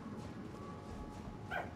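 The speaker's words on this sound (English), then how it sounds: "You can hear probably hear my puppy barking in the background." A puppy barks faintly in the background, a brief yip near the end over a steady bed of video game sound.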